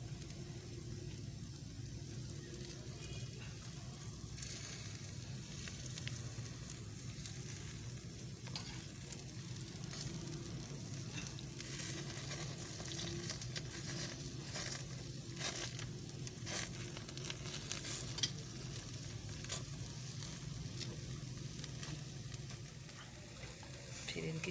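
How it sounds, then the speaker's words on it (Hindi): Chicken tikka pieces cooking with drops of oil added, giving a faint, even sizzle and crackle that runs for the whole stretch with scattered soft scrapes and no speech. "अब हम इनके ऊपर इस तरह ऑयल के ड्रॉप डालेंगे।"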